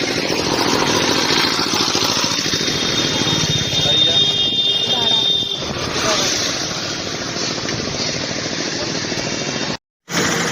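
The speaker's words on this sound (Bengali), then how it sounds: "বাইক আসছে দেখে" A motorbike passes close by on a busy highway, its engine droning loudly over steady traffic roar before fading, with voices talking in the background and a brief dropout near the end.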